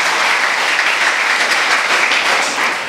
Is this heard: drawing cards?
no